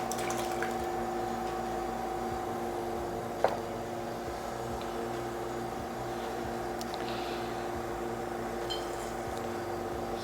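Beer from a keg trickles into a bottle through a bottling wand, a faint steady liquid fill under a constant low hum, with one small clink partway through.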